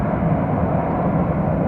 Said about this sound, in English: Twin aisle, super duper huge airplane there.